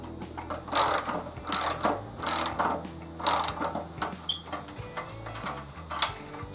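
Close ratchet with a 1/2-inch socket working on a Harley-Davidson, clicking in four distinct bursts of rapid ticks, followed by lighter handling noises.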